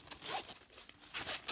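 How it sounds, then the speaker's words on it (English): The zipper on a fabric pen pouch is pulled open in two or three short, close ripping strokes with a brief pause between them, crisp and quiet against a silent background. "If you unzip the bottom,"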